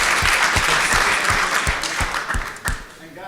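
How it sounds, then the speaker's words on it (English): A Berlin crypto-event audience gives a loud, hearty round of applause for the hosts and sponsors, with close, thumping claps that taper off toward the end while a voice carries over them. "Let's give Chris and MMCrypto a big round of applause for hosting and sponsoring this event."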